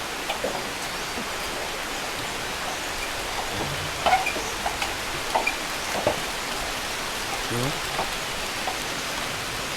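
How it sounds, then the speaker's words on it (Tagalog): Steady rainfall hissing on surfaces in the Philippines, with a few brief, sharper knocks and drips standing out midway. "Umuulan-ulan mga idol."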